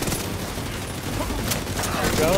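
Sustained automatic gunfire from shooting in The Division 2 video game during a raid, a dense continuous fusillade of shots, loud and close.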